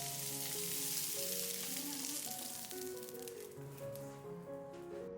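Cauliflower florets stir-fried dry in a wok until lightly browned, a steady bright sizzle with scraping stirs, under soft music.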